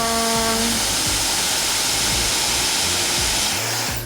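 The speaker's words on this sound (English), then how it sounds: "turn the blow dryer on, place the air up at the top, and smooth down" A blow dryer roars with a loud, steady rush of air while hair is smoothed down with a half round brush; the whirring tone shifts slightly as the dryer moves.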